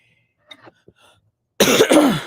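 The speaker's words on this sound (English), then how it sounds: "let me force some coughing" A few faint throat noises, then a loud, close burst of forced coughing lasting under a second.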